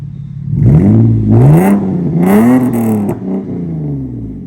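A car fitted with a Kraken PowerBomb exhaust revs in a few rising and falling swells over a steady idle, loud and close, with no one talking.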